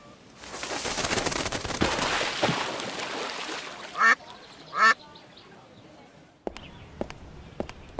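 Ducks quack in two short, loud bursts amid a noisy park scene in the Secret Files video game, followed by sparse taps and soft footsteps as the din fades.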